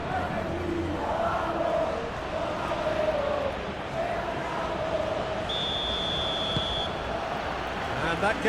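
A capacity stadium crowd at a World Cup final between Argentina and Morocco in the eFootball PES video game keeps up a steady roar and chant, with a brief whistle-like tone rising above it.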